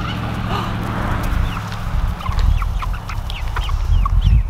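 Backyard chickens cluck and murmur busily while eating fermented, sprouted feed, a close, continuous flock chatter with sharp individual clucks over a low rumbling background.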